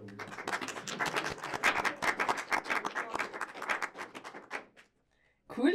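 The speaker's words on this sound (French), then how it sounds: "Vous pouvez vous applaudir." A small group of schoolchildren claps for themselves in a classroom, a dense burst of quick, uneven applause that gradually thins out and stops, followed by brief silence.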